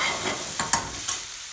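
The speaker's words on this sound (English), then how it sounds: "Just wait for the onion to slightly caramelise before we start adding all our other bits and pieces." Chopped onion fries in a pan for a madras-style chicken and potato curry, a steady close sizzle with a couple of brief stirring scrapes and no talking.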